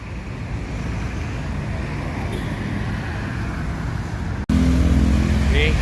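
A Damri bus speeds along a road in Indonesia, heard as a steady, fairly loud roar of engine and tyres mixed with traffic noise. After an abrupt cut, the sound is heavier and closer.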